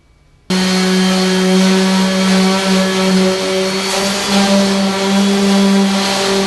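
Power tool cutting a hole in a brand new steel squarebody truck hood on a K5 Blazer, starting abruptly and holding a loud, steady whine with strong harmonic tones for six seconds.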